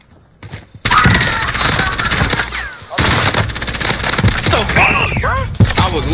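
Close, loud bursts of automatic weapon fire from a Warzone battle royale match, with a Fara and MP7 in play, rattling almost continuously with sharp individual shots and thuds, while players talk over it.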